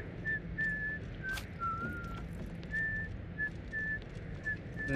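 A character in the stealth video game Thief whistles loudly in a string of short, high, tuneful notes over a low, rumbling game background.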